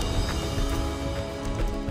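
Orchestral chord progression motif from a film score, a dense, sustained full-ensemble passage holding steady loudness throughout with no voices.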